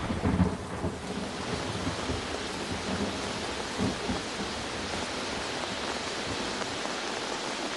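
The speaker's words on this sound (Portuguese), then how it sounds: "É o trovão." Thunder rolls through a thunderstorm, a deep, sustained rumble swelling near the start and again around the middle. Steady heavy rain hisses throughout, with no voices present.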